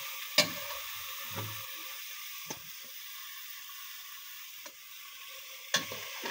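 Pieces of desi chicken sizzle in a hot pan with a soft, steady hiss, punctuated by several sharp scraping clunks of a spatula stirring at irregular intervals.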